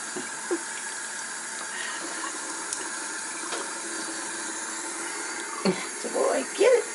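An Abyssinian cat plays in a running kitchen sink, with a steady, close faucet stream hissing throughout. Occasional splashes and a few brief voice sounds break through near the end.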